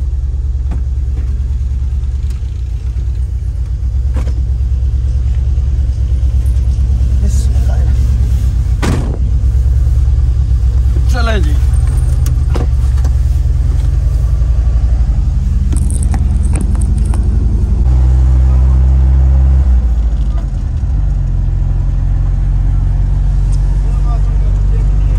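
Interior of a moving Toyota Hiace van on the road in Pakistan, heading toward Sialkot: a loud continuous low engine and road rumble throughout, with shifting tones as the vehicle changes speed.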